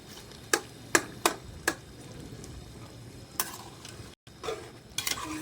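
Beef karahi with softened tomatoes is fried and stirred in a pan, a low sizzle under several sharp metallic spoon knocks and scrapes, spaced irregularly, with no talking.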